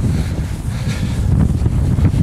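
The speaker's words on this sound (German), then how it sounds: "Aber dafür geht der Wind, glaube ich, einigermaßen." Wind buffets an outdoor microphone at a coastal Atlantic Wall bunker site in the Netherlands, a loud, constant low rumble with gusting swells and no voices.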